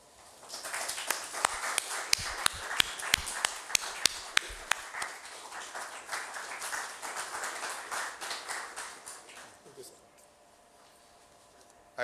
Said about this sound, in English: Give big applause.